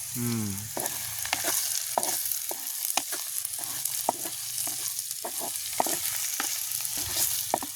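Dried fish and potatoes sauté in a pan over a village fire at night, with a steady sizzle and repeated scraping stirs of a wooden spatula at a near, even level.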